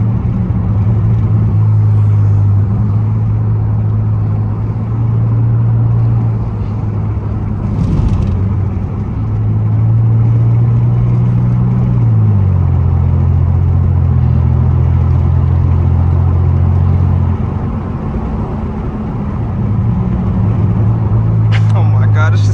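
A Pontiac Grand Prix GT with a muffler delete drones with a deep, steady exhaust rumble from inside the cabin while driving, shifting pitch as revs change, with talk over it.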